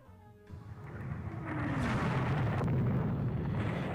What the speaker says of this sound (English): Ooh, that's 2 torpedo hits on the Nantes class battlecruiser.